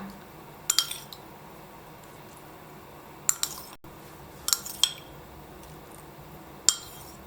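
Ingredients for herbal steamed pork cartilage, with torn kaffir lime leaves and light soy sauce, tossed in a bowl: sparse, faint clinks of utensil against the bowl in a few short bursts over a quiet background.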